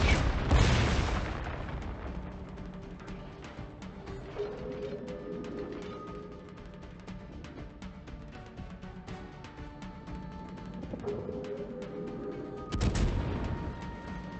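Des Moines cruiser guns firing high-explosive shells at a Bismarck battleship in World of Warships, with heavy booming salvos at the start and near the end over a steady rumbling battle bed.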